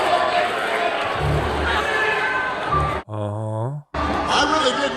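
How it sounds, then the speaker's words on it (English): A lively rally crowd roars and cheers in a dense, loud wash of voices at a political event, briefly cut by a short musical tone before the noise returns. "This is a feisty crowd."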